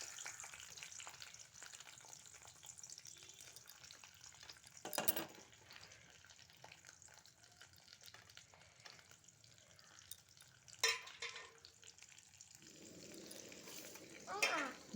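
Onion fries in a pan with a steady soft sizzle, punctuated by a few stirring clatters and a sharper hiss near the end, fairly quiet overall.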